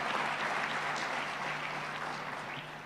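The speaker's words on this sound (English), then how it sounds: "Let's give them recognition and a round of applause." Continuous applause from an audience recognising the authors of a communique, steady and moderately loud, fading slightly toward the end.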